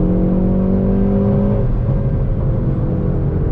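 A 2020 Hyundai Veloster N Performance Package hatchback engine rising in pitch as it rev matches, a close loud hum of engine tones that drops away partway into steady road rumble.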